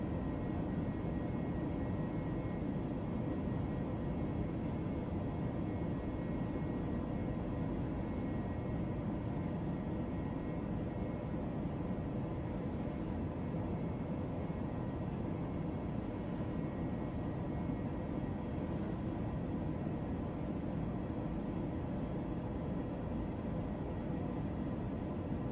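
Airliner cruising on autopilot in Flight Simulator 2024, a steady, unbroken engine drone and airflow roar, loud and constant throughout with no talking.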